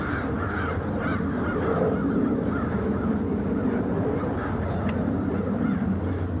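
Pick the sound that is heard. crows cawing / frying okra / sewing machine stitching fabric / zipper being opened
crows cawing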